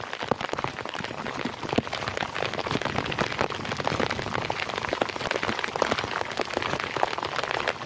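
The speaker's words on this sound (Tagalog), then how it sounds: "Lakas ng ulan" Heavy rain pours down continuously, a dense, loud hiss of drops with no pauses and no voices.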